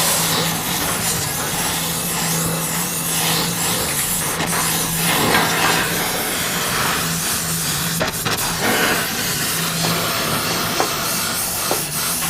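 Torch heating a crimped outer transmission pipe on a Chevy Blazer with a 4L60E, a steady close roaring hiss running the whole time with brief scraping and clicking bursts over it.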